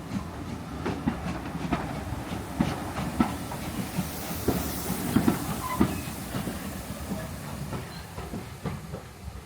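A Keighley & Worth Valley Railway steam train at Oakworth Station hisses and clanks nearby, with irregular metallic knocks and bursts of steam over a steady rumble.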